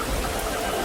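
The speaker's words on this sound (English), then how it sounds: "It starts to rain, and Peppa and George watch the drops roll down the window like tiny mirrors." Cartoon rain falls in a steady dense hiss of drops, loud and continuous through the short moment, with no voices.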